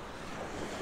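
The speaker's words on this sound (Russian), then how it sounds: "Надо на минутку замедлиться, встать и послушать шум волн" Sea surf on the Baltic coast at Zelenogradsk in the Kaliningrad region in winter: a steady, loud wash of breaking waves blending with gusty wind noise on the microphone, with no voices.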